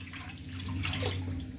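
Water runs steadily into a pressure cooker on a home kitchen stove before turmeric is boiled. The pour is soft and continuous over a low background hum.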